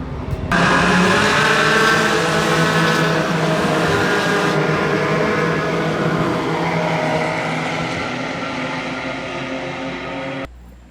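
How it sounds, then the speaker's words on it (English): GT3 race cars at a GT World Challenge America race, seen just after the start as they come back around: loud engine roars sweep past one after another in a sustained, overlapping wash of high revs that slowly fades, then cuts off abruptly. "The race just started. The cars come back around right now."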